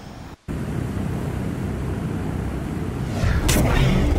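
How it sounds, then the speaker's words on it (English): A fast jet roars past in Ace Combat 7, a broad steady rumble of engine and wind that swells louder toward the end, close and continuous with no talking. "Unidentified aircraft. They're fast. Real fast."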